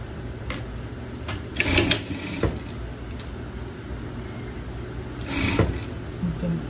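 Home sewing machine stitching a pet dress, short mechanical bursts of running stitches starting and stopping against a quiet room background.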